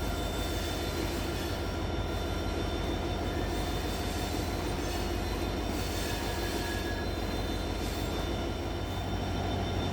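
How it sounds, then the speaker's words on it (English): WDP4D diesel locomotive 40361 of Pune Shed hauls the Pune–Ernakulam Poorna Express, a steady loud rumble of engine and rolling coaches with faint wheel squeal, unbroken for the whole stretch. "The locomotive for today is WDP4D 40361 of Pune Shed"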